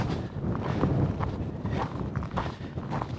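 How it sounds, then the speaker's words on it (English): Wind gusts across an exposed hilltop in Death Valley, a continuous low rumbling buffet on the microphone with uneven surges, near and fairly loud. "It's breezy up here."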